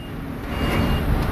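A tractor-trailer truck idles and rumbles in reverse while coupling to a trailer, a loud, close, steady engine drone with a faint high tone running through it, no talking.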